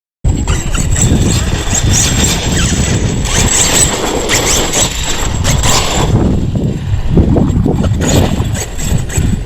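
A Losi DB XL-E electric RC car on a 12S setup drives at low throttle, giving a continuous, loud whirring squeal with drivetrain rattle that rises and falls over several seconds.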